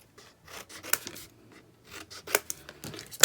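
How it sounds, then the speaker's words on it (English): Scissors snip and trim the paper corners of a handmade explosion box, close and crisp, with a few separate cutting strokes and light paper rustling between them. "So now I'm just going to trim out the corners like that."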